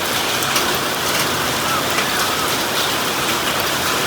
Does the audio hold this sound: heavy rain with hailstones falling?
yes